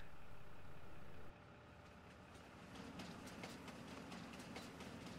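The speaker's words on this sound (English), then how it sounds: "Ah, here's the train." Train passing in the video game Farming Simulator 22, a faint rumbling roll with rhythmic clickety-clack of wheels on rails building up as it moves by at a distance.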